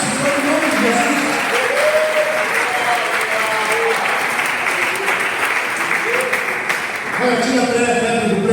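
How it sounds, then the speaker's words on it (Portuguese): A church congregation applauds together, a sustained wash of many hands, with the preacher's voice and sung or spoken lines riding over it before a brief dip and renewed clapping near the end. "Aplauda o Senhor em nome de Jesus."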